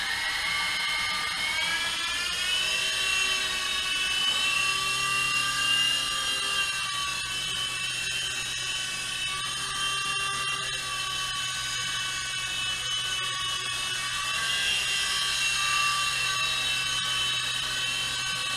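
A GP Toys G610 3.5 channel RC toy helicopter flies with a steady high-pitched motor whine and buzzing rotor, constant and close, with no talk.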